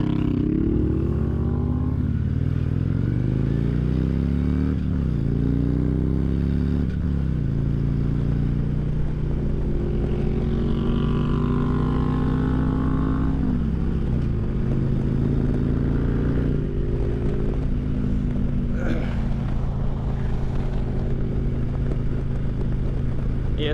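A 2016 Harley-Davidson Street Glide on the move, its engine droning steadily with gear shifts and rising pitch while wind rushes continuously against the helmet, loud and close throughout.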